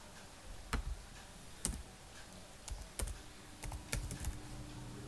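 Typing on a computer keyboard comes through as quiet, close clusters of key clicks in short irregular bursts, separated by brief pauses.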